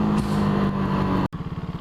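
A 2015 KTM Duke 390 single-cylinder engine holds a steady drone, then cuts out for a moment and returns as a rhythmic, pulsing throb, close and moderately loud with no talk.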